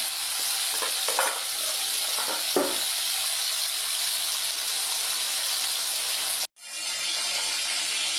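Vegetables frying in a pan in a home kitchen, a steady hissing sizzle with a few stirring scrapes early on, a brief cut near the end, then the sizzle resumes.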